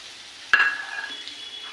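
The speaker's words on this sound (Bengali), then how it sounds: "দিয়ে এটাকে আগে আমি একটু ভাজা ভাজা করে নেব" Diced potatoes drop into hot oil seasoned with bay leaf and cumin seeds, setting off a sudden loud burst of sizzling that settles into a steady, fading crackle, close by with no talking.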